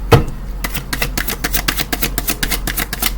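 Tarot cards being shuffled by hand, a quick run of crisp, papery riffling taps at an even rhythm, close and clear with no talk over it.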